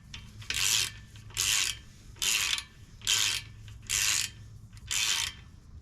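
A ratchet clicks in six even, steady strokes, close and fairly quiet, as it tightens a brake caliper bolt on an FL5 Civic Type R; the strokes are separated by short pauses.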